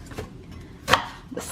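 Kitchen knife cutting through a red onion on a board: one sharp, loud chop stands out in the middle, with softer knocks before and after, no talk.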